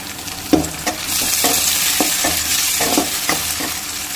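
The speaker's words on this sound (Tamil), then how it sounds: "இப்போ நம்ம இது கூட எடுத்து வச்சுருக்க தக்காளி பழத்தை ஆட் பண்ணிக்கலாம் இதையும் நல்லா கிளம்பிட்டுக்கலாம்" Tomatoes and onions sauté in a pan for bitter gourd poriyal, loud close sizzling broken by repeated spatula scrapes and stirs.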